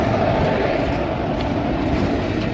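A train engine crosses on a railway line, a steady, loud rumbling roar that stays close and continuous throughout with no voices.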